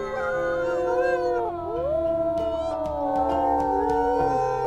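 Several wildcats in the Wildfire Pack game howl together in long, overlapping, sliding wails, a sustained chorus that rises and falls with no speech.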